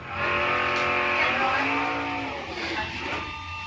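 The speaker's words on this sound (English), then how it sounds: "Great drag race up front." Drag race cars roaring side by side down a strip, a loud sustained engine howl with rising pitch as they accelerate, close and continuous, with no voices.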